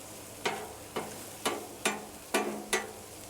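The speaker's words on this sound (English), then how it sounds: "Let's go ahead and add our chorizo." Beef chorizo on a Blackstone griddle, heard as six sharp scraping strokes of a spatula at an even pace over a low background sizzle, close and fairly loud.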